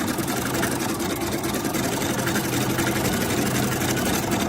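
An embroidery machine stitching a butterfly design onto a messenger bag runs with a steady, fast mechanical whirr and rapid needle chatter, constant and close throughout.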